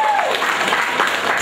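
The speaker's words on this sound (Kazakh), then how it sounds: "бір шапалақ болсын" An audience at a toastmaster-led celebration claps in a dense, continuous burst of applause lasting over a second, with voices mixed in.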